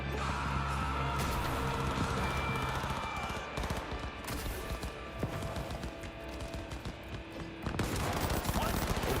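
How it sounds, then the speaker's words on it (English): Gunfire during a full-on firefight in Cyberpunk 2077, sustained and dense bursts running under loud game music throughout, with a sharp resurgence near the end. "Into a full-on firefight."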